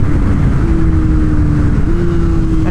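A motorcycle engine drones loudly and steadily while riding, the pitch holding nearly level with a small step up partway through as it works through short gears, with constant road and wind rumble underneath.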